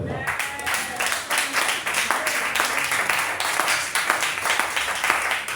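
A congregation claps and cheers for the Lord during a New Year's Eve worship night, a dense steady roar of applause with voices mixed in, lasting throughout.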